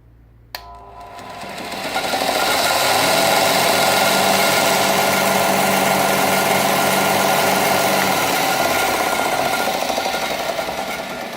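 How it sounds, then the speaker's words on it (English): An Ozito 150mm bench grinder with a linisher belt switches on with a click, then spins up over a couple of seconds to a loud, steady whirring hum with belt rasp, before starting to wind down near the end. "Just a little bit of belt noise, but other than that, not too much vibration."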